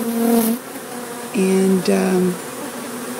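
A live honey bee colony being removed from a wall buzzes loudly and close by, with the drone rising and falling in pitch in several surges; a brief spoken word slips in.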